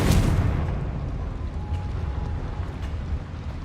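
A Confringo blasting spell in Hogwarts Legacy goes off as a loud, booming explosion that bursts at once and then rumbles away in a long, fading roar, with no talk.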